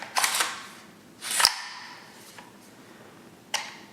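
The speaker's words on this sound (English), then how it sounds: "put it on fire, and you should hear a click" Sharp metallic clicks from an M16 rifle mechanism as the charging handle is pulled back and the action worked: a quick clatter, a louder snap near the middle and a single crisp click near the end, close and with no talk.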